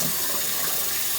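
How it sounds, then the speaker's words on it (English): Water pours steadily into a pot of washed rice being readied for cooking, a close, continuous rushing splash with no pauses or voices. "the water that"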